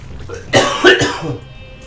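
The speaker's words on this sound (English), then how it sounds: "As I cough." One man coughs a couple of times in quick succession, close and loud, with a brief throat-clearing quality and no talking.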